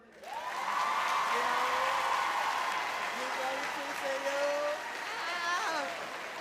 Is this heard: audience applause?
yes